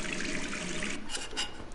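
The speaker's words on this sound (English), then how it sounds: "Turn faucet on." A bathroom faucet in the game Gone Home runs steadily, a close, even hiss of pouring water with slight splashing surges toward the end, no voices over it.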